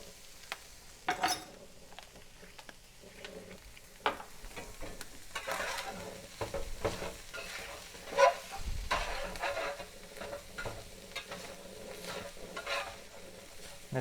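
Steak sizzles softly in a pan as oregano and paprika are stirred in, a low continuous frying hiss broken by scrapes and clinks of utensil against pan at irregular intervals, close and fairly quiet, with no talking.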